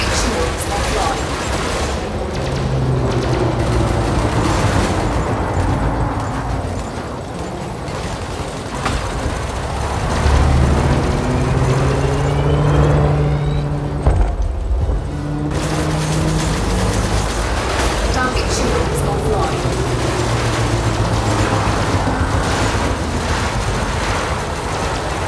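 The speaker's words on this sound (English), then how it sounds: "I'm going to make a quick montage of me taking out some ships at the resource site" Spaceship weapons fire in rapid bursts during combat at a resource site in Elite: Dangerous, loud and continuous over engine hum and layered game sounds, with a synthetic voice announcing targets briefly.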